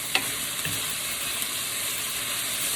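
Beef, about two palm-sized portions, stir-frying quickly in a pan: a steady close hiss and sizzle with a couple of brief clacks of stirring near the start.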